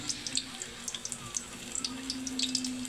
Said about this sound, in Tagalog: Gigisa po ako ng bawang idol at saka luya.